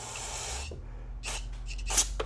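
Carburetor cleaner sprays through the small holes of a Honda-style knock-off carburetor for a Cub Cadet. One longer hiss is followed by several short, sharp spray bursts, all close and with no talking.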